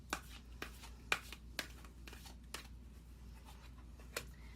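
Oracle cards are shuffled by hand in a quiet room, giving a series of crisp, light slaps and riffles at uneven intervals, each a brief sharp snap close by with soft rustling between.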